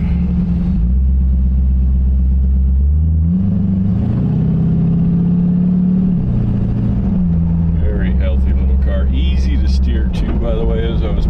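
A 1932 Ford three-window coupe retro rod with a C4 automatic pulls away, its engine note rising and settling through a low, steady rumble, with someone talking over it for much of the drive.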